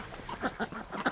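Ducks give a brief burst of nasal quacks, three or four quick calls close by in about a second, with no talk.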